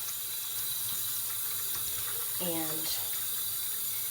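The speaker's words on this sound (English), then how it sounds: "So you fill your basin again," Cool tap water running into a basin used for washing synthetic wigs, a steady hissing stream throughout with a single brief spoken word partway through.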